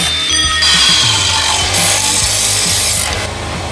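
A saw cuts through a part during a moped build, giving a loud, close, continuous rasping grind that shifts in pitch as the blade works through the material, with no talking.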